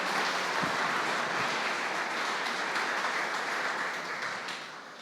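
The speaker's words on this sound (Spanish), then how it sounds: "Dale un fuerte aplauso al Señor." A church congregation applauds during a Spanish-language service, a dense, steady wash of clapping that holds for several seconds before fading slightly, with no talk over it.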